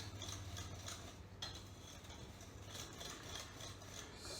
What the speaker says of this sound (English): Let's just whisk that in